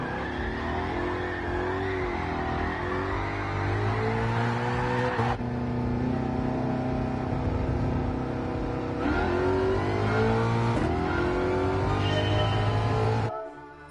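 Drifting car in Gran Turismo 7 on a G29 racing wheel, engine revving high and shifting pitch through sustained sideways slides, with repeated rises and drops in revs, loud and continuous without speech.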